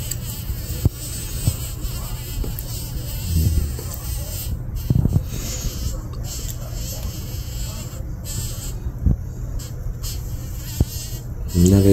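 Steady insect buzzing from a bee caught in a black widow spider's web, a continuous faint drone with small clicks and bumps, with no clear speech.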